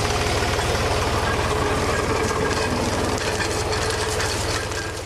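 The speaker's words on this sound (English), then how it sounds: "Special tractors cut the plant close to the roots, allowing ongoing sprouting for the next crop." A special tractor harvesting dandelion plants, cutting close to the roots, with a loud steady engine drone and rapid mechanical chatter from the cutting gear, continuous and close with no speech.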